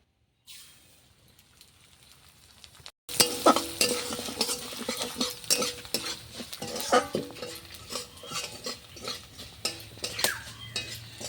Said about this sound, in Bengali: এখন এই তেলের মধ্যে আমি চালটা ভেজে নেব।